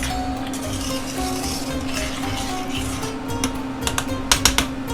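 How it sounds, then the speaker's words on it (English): A spoon stirs mustard into beef or venison stroganoff in a pot, scraping and clinking against the metal with a faint steady simmer underneath, the clinks growing sharper toward the end. "So I'll just stir that in there."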